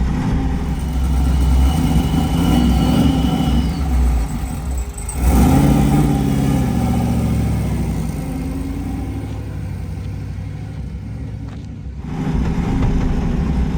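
Supercharged V8 engine in a Tesla Model S revs while driving, a loud, rumbling drone that dips and rises through gear changes, with a brief drop around a shift.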